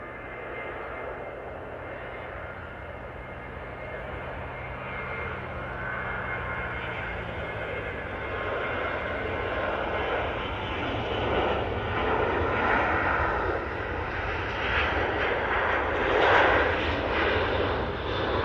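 SAS Airbus A320 jet taking off at Manchester Airport, a steady broad engine roar that builds slowly and stays loud and sustained throughout, heard from a spotting position with no talk.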